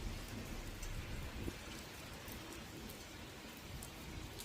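Steady rain falls outdoors at a bus stop on a drive toward Sargans and Zurich, a soft continuous hiss of drops on surfaces with no voices and an even, moderate level throughout.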